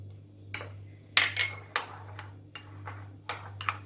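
A metal spoon clinks and scrapes against a bowl of yogurt in irregular taps while stirring, close by, over a steady low hum.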